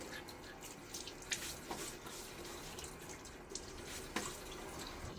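Water from a running tap splashing and dripping at a sink as a face is wetted before shaving, soft irregular splashes over a steady faint trickle.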